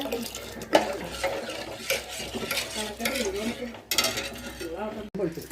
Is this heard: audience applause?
no